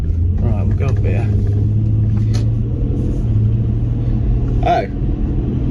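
An old Subaru Outback accelerates with a loud, steady engine rumble heard from inside the cabin, its pitch shifting as it changes gear, while people talk over it.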